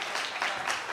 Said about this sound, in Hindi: जोरदार तालियां कम पड़ गई हैं।